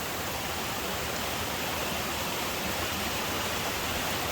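A waterfall beside a trail at Llyn Idwal in Snowdonia pours in a dense, steady rush of broadband water noise, close and loud, unchanging throughout.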